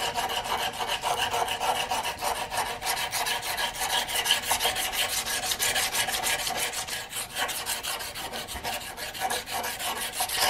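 Strips of 80 grit sandpaper rubbed steadily back and forth over wood, a loud, continuous rasping scrub with a fast, even stroke rhythm and no pauses.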